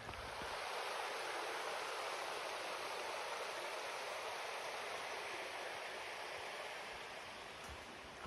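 A creek flowing through Vermont woods along the Appalachian Trail, a steady even rush of water that holds at a constant level throughout.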